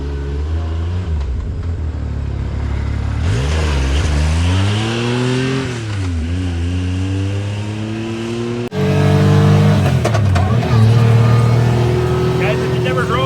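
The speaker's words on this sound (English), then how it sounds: "Let's go take it for a rip and see if our squealing's gone." A 2016-2025 Yamaha YXZ 1000R side-by-side driving off after a rear brake pad replacement, its engine revving and shifting with rising and falling pitch, loud and close, with a voice talking over it.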